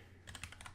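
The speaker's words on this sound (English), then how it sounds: "Let me do a quick typing test here." A brief flurry of keystrokes on a keyboard in a StrataKb Minivan acrylic case, about six quick, fairly close clacks over a faint background hum.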